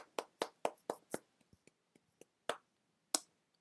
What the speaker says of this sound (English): so we have to do the good old traditional clap